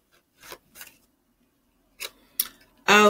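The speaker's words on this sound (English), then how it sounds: "All right, let me shuffle real good." Tarot cards shuffled in brisk bursts of papery riffling and tapping, with short quiet gaps between handfuls and a louder clatter of cards at the end.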